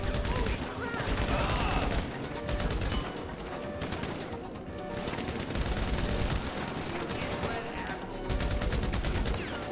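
Dense, continuous machine-gun fire from a firefight in the video game GTA Online, a loud rattling barrage that keeps going almost without pause for about ten seconds, with other gunshots mixed in.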